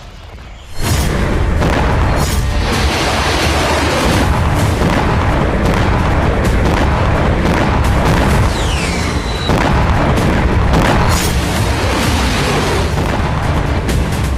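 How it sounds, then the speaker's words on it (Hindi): A heavy barrage of explosions in Crimea, a continuous roar of deep booms and blasts at high volume with sharp bursts layered on top, loud and sustained with no voices. "यूक्रेन ने क्रीमिया में लगातार दूसरे दिन बड़ा विस्फोट कर दिया।"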